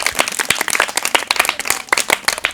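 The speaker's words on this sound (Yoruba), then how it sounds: "ìlú gángan ẹ pàtẹ́wọ́ fún un" An audience claps for a performer during a Yoruba comedy show, a dense, steady patter of hand claps close by that carries through the whole moment with no talk over it.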